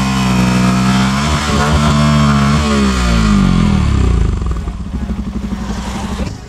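Yamaha FZS v3 motorcycle engine revving in gear while stationary, a loud close throbbing roar whose pitch climbs and falls, then settles into a choppy lower idle.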